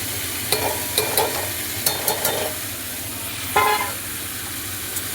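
Red lentils sizzle and crackle steadily in a hot pan, with a few sharp scraping stirs from a spoon. A car horn toots faintly in the distance.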